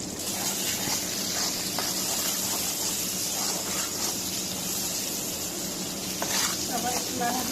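Onions sizzle steadily in a hot pan while cooking dried fish with jackfruit seeds, a constant close frying hiss with occasional stirring scrapes.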